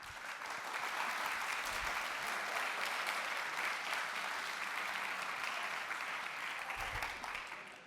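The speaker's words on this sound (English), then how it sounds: "Let's give him a round of applause." A lecture audience at a university tech event gives a steady round of applause welcoming a professor, a soft, even patter that swells briefly and fades near the end.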